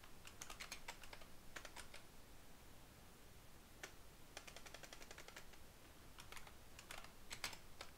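Quick, light key taps on a computer keyboard come in clustered bursts with short pauses, close by and fairly quiet over faint background hiss, with no one talking.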